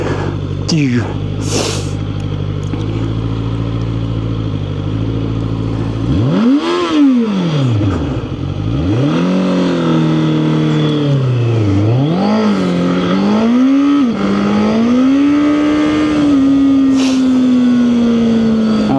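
A QJMOTOR SRK600RS motorcycle launches hard from a standstill to 100 km/h, its engine note climbing steeply and rising again through each gear change, loud and close, with a voice talking near the start.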